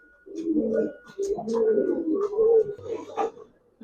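Giribaz and racer pigeons coo in a close, steady run of soft, rolling warbles that swell and fade over a few seconds, with no voices on top.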